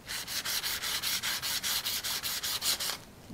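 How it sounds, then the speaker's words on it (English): Hand sanding along the edges of a plastic frame painted blue underneath with chalk-finish paint, a steady run of about a dozen close, brisk rasping strokes in even rhythm, stopping abruptly near the end. "You just sand those edges."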